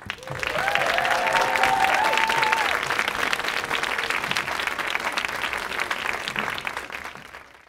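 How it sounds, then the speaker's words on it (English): A studio audience applauds warmly for Downton Abbey stars Hugh Bonneville and Rob James Collier, the clapping swelling quickly, holding steady with scattered cheers, then tapering off. "please give a warm welcoming hand to two stars from Downton Abbey, Hugh Bonneville and Rob James Collier"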